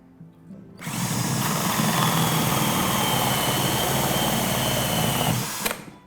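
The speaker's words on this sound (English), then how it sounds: "We drilled 6 holes in it." A power drill bores a hole, the motor whirring loud and steady for about five seconds before spinning down, while six holes are made for a homemade microgreens garden.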